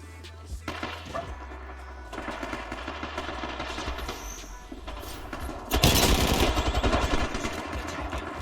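Rapid automatic weapon fire from the Apex Legends video game rattles in continuous bursts with thudding low impacts, growing louder and denser toward the end.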